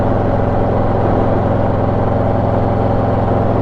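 Motorcycle engine fitted with a FuelMoto exhaust insert, running as a steady, loud, continuous drone with a low rumbling hum throughout, no voices.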